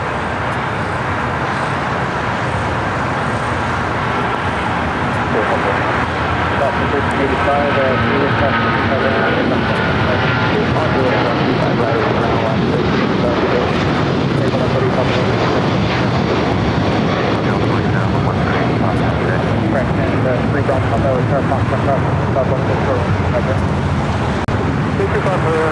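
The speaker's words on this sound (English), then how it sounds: "At the American 777, now taking off 25 right." An American Airlines Boeing 777 jet takes off from runway 25 right at LAX. Its engines give a loud, sustained broadband roar that swells and holds for the whole stretch, with road traffic faintly beneath.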